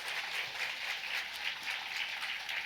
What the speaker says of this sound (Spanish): Vamos a dar un claro aplauso de gloria a nuestro Dios Trino.